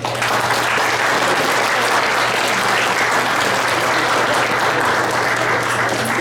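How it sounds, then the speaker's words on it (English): Loud, sustained applause and clapping from a crowd at a boys' water polo team banquet, filling the room continuously from start to finish with no break. "big round of applause"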